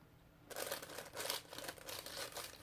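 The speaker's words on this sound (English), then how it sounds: "the noise you are hearing is the parchment paper I've put down below" Parchment paper crinkles under an art journal page being glued with white glue, a soft, close rustling and crackling that starts abruptly and continues faintly in uneven bursts.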